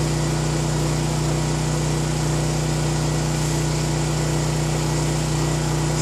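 A Champion generator drones steadily under the load of the main well pump, a loud, even engine hum with strong constant tones that never change, and no one speaks.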